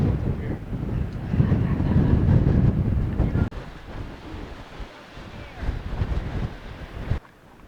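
Gusty wind buffets a microphone on a strenuous desert hiking trail funnelled past a small wind shelter, a loud rushing roar building in the first seconds, dropping briefly, then gusting again until a sudden cutoff.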